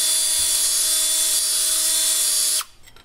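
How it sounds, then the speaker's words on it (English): A power drill runs steadily with a high whine while polishing surface rust off front brake parts on a Volvo 850, loud and continuous before cutting off abruptly near the end. "you just run the drill and polish those up"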